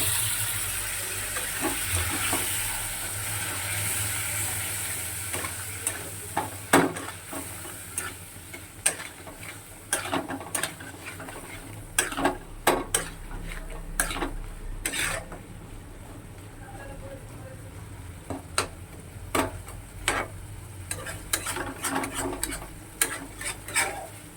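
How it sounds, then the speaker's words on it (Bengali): Prawns cooking in a wok with repeated sharp scraping and knocking of a stirring utensil against the pan over a steady sizzle, irregular clatters close by and loud, no talking. "যে কড়াটা নাড়াচাড়া হচ্ছে দেখতেই পাচ্ছ"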